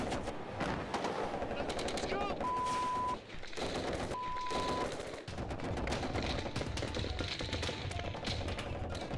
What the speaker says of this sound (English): Suddenly, the calm disappears in a barrage of gunfire and mortar rounds.